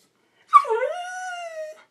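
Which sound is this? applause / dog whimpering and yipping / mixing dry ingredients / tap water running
dog whimpering and yipping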